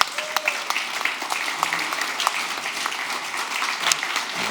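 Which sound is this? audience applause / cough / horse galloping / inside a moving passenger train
audience applause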